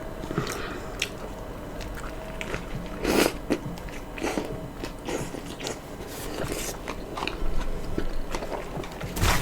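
Burger King food being eaten close to the microphone: steady wet biting and chewing with occasional crunches and squishes, intimate and continuous, with no talking.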